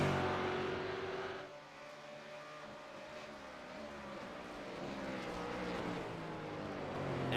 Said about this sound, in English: Wineland smelling McGraw's exhaust up the mountain straight for the penultimate time in this 3 race series